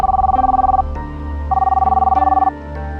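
A phone ringtone rings out loudly and close, a repeating electronic melody with rhythmic pulses, playing two full cycles with no voices.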